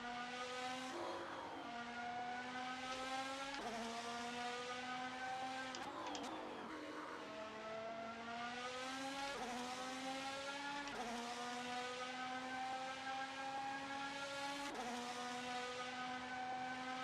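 A 2026 Haas VF-26 Formula 1 car, a simulated mod in Assetto Corsa, screams through the lower gears, its high engine note climbing steadily and dropping sharply at each upshift, loud and continuous with no talk.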